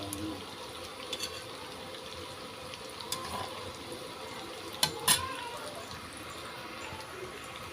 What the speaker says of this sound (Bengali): তেলের মধ্যে দিয়েছি ভাজছি।